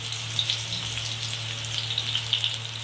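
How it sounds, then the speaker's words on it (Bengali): Sliced onions frying in hot ghee to make crisp beresta for an egg korma, giving a steady, close sizzle and crackle with small bright pops scattered through, no talking. "এবার পেঁয়াজগুলো এর মধ্যে দিয়ে অল্প একটু বেরেস্তা আমি করে নিচ্ছি।"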